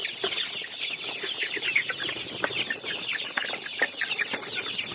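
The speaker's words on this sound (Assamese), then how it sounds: "মোৰ লোকেল মুৰ্গী ফাৰ্ম" Chickens cluck and chatter steadily on a local poultry farm in Assam, many birds at once forming a dense, continuous flock sound with scattered sharper calls throughout.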